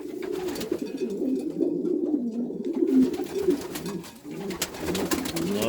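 Low, burbling coos from homing pigeons in a loft, where a mother bird is feeding her lone young. The calls come in close, continuous rolling bursts with a brief lull, and nobody speaks.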